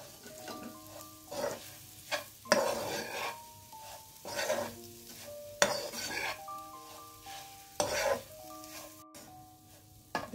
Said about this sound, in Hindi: इसको मैं अच्छी तरह भूनूंगी।